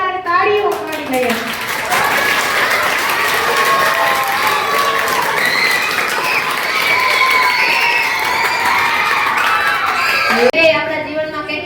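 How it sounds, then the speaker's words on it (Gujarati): A school audience of children breaks into loud, dense applause with cheering at a Tulsi Pujan event in Rajkot, sustained clapping close and full, with a voice speaking briefly at the start and end. "આપણે એક વખત જોરદાર તાળીઓ પાડી લઈએ"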